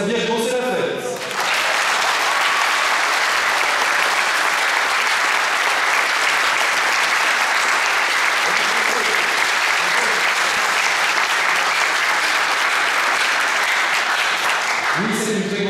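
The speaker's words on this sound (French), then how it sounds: "Alors un dernier applaudissement" Sustained, even applause from a church audience in Granby, Québec runs steadily for most of the stretch, bracketed by brief speech at the start and end.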